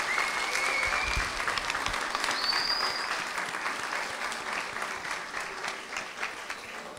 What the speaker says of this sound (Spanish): Así que un fuerte aplauso para ella